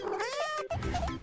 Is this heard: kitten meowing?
yes